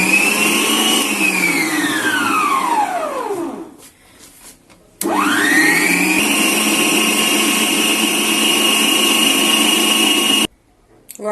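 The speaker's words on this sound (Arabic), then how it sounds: "بعد ما حطينا جزء من الزبدة هنشغل العجان" An electric dough kneader mixing dough with butter for Eid qaraqeesh cookies, its motor whirring loudly, winding down to a stop, then spinning back up and running steadily before cutting off abruptly.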